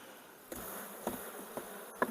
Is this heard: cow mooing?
no